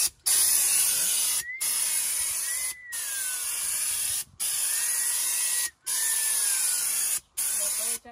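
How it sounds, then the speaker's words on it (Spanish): Spray gun coating the floor pans of a Jeep Comanche with unthinned paint at a single pressure, a loud steady hiss in long bursts broken by short pauses, close up with no talking. "Voy a pintar todo a una misma presión para que quede algo bien."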